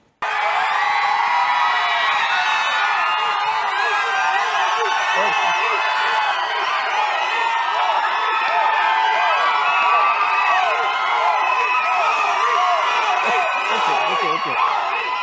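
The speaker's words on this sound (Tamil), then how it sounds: "தோனியை நான் இவ்வளோ பெரிய கூக்குரலோட வரவேற்பேன்" A large crowd of fans roars, shouts and cheers nonstop to welcome cricketer Dhoni, a dense wall of whoops and cries at steady high volume throughout.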